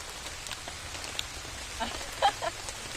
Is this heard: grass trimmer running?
no